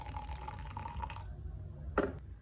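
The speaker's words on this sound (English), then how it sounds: "Add some water." Water poured into a glass of instant coffee and sugar for dalgona coffee, a soft trickling pour fading out, then a brief clink or splash near the end, close and quiet.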